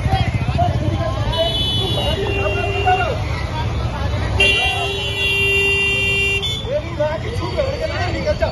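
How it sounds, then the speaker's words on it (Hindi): Vehicle horns honking at a crowded outdoor party, two long, loud tooting blasts over busy crowd chatter and traffic noise. "हॉर्न बजाया जा रहा है"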